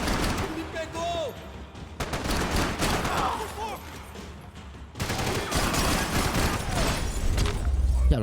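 Max Payne 3 gunfire pours out in a steady, loud barrage of overlapping shots and bursts, with brief pauses between volleys, while someone talks over the shooting.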